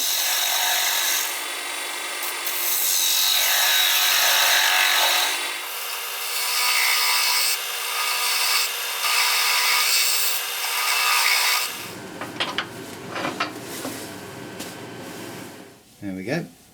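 Scraper worked over a carved wood piece, a steady rasping rub that runs continuously for most of the time, then turns into shorter, choppier strokes toward the end.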